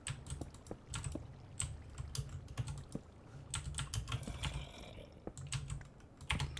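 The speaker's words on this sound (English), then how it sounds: "most of the sound you're hearing from my keyboard is a shock, actually, of me slapping the key down" A computer keyboard clatters with fast, irregular typing during a Minecraft gaming session. The keys are slapped down hard, making sharp, close clicks and thuds with brief pauses and no voices.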